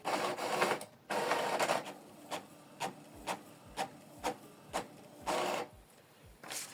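Epson EcoTank ET-4950 inkjet printer printing a document: quiet mechanical whirring, then a run of evenly spaced clicks and ticks from the paper feed and print head, with short motor sweeps at the start and near the end.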